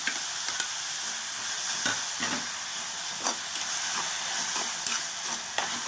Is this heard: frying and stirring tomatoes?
yes